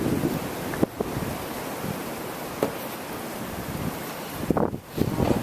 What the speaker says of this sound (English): It's not really snowing right now, but the wind is still really picked up.